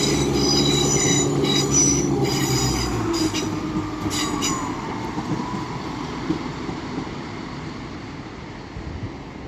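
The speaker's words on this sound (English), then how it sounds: "And now departing is 17473 with a northern service to" Northern passenger train 17473 pulls away from Doncaster station on the East Coast Main Line, a loud rumbling departure with wheel squeal and clatter that gradually fades as it moves off.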